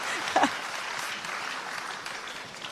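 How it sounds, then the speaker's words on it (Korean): A seated audience at a public talk on peace gives soft, moderately distant applause, a low continuous patter with a brief louder moment near the start. "박수 주세요."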